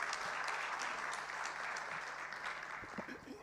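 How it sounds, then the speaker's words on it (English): Applause from a room of guests at a budget review dinner session, steady and continuous clapping filling the hall for several seconds, with a few voices emerging near the end. "Big round of applause, please"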